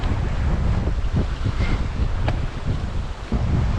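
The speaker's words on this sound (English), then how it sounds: "There is so much fish, but this wind is hectic." Strong wind roaring across a microphone on a fishing boat at sea, loud and continuous buffeting with low rumbling gusts and faint water noise beneath.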